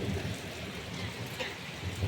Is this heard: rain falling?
yes